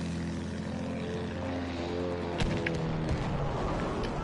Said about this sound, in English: Like a plane is shooting at us.